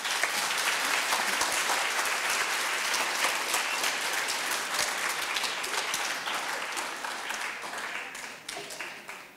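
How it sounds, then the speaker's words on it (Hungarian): Audience applause fills a Christmas concert at the Devecser music school, a dense, steady wash of many hands clapping continuously that eases slightly toward the end. "És biztassátok jó nagy tapssal!"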